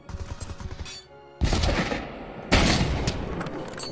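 Heavy .50 caliber rifle firing in the Pavlov VR shooter game, with loud, sharp booming shots at about 1.4 and 2.5 seconds, each trailing into a long rumbling decay over a busy background of more distant gunfire.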